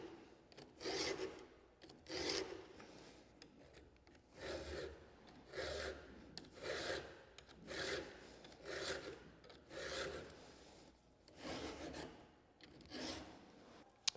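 Hand file rasping across the teeth of an MS462 chainsaw chain held in a vise, steady strokes repeating about every second, soft and close.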